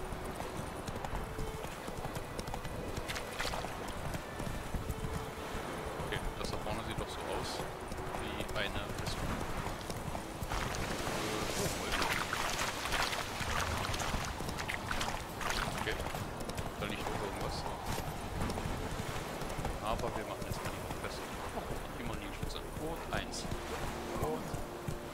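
Horse hooves gallop in The Witcher 3 as an unbroken, rapid clip-clop drumming throughout, with voices talking over it.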